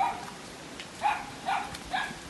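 A dog gives three short, faint yelps spaced about half a second apart over a soft, steady background hiss.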